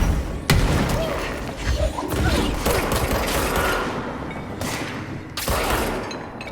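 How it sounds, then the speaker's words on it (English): A grenade explodes in the video game Control: heavy booming thuds and crashing blasts repeat across the stretch, loud and dense, layered with mechanical game noise and no voices. "Throw a grenade."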